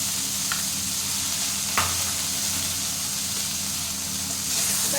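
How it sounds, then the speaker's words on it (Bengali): Fish and drumsticks fry in a pan with spices and a little mustard paste, giving a steady, loud, dense sizzle with faint stirring and a couple of brief clicks throughout. "এটাকে ওই মশলাগুলো দিয়ে একটু ভেজে নেব।"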